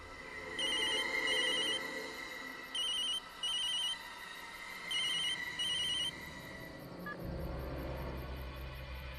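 A telephone rings in repeated bursts of electronic trilling, four clear rings with short gaps, fairly close, followed by quiet room tone and a low hum.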